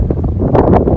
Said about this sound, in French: il commence à y avoir du vent